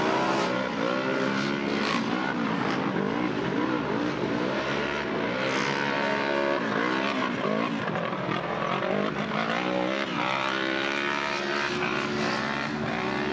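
Off-road ATV and side-by-side race cars compete at a motocross track, producing a continuous dense drone of several engines revving and rising and falling at a distance, without pause.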